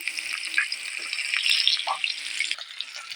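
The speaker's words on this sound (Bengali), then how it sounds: "পেঁয়াজ কুচি তেলে দিয়ে দিচ্ছি" Chopped onion hits hot oil in a pan, setting off a lively, close sizzle with bubbling crackles and light stirring noises, steady across the moment.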